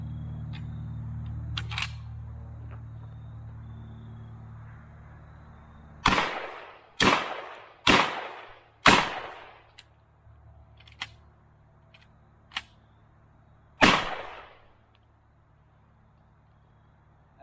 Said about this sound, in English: So now that we have successfully shot all of the produce that we just bought